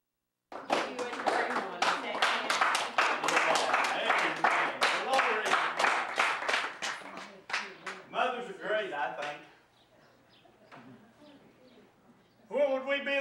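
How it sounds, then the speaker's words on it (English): A church congregation claps hands in appreciation, a quick, uneven burst of many sharp claps over about nine seconds that thins out and stops, followed by quiet room noise and a voice starting to speak. "Church, I want you to give them a hand clap of appreciation"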